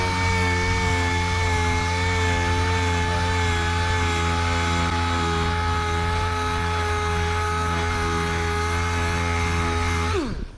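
Power sanding old, flaking paint off a 1959 Dodge Coronet body with 220 grit, a steady high whining drone held for about ten seconds before stopping abruptly, loud and close.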